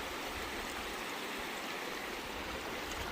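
A river flows through the Hoh Rainforest on the Olympic Peninsula, giving a soft, even, continuous rushing murmur with no voices.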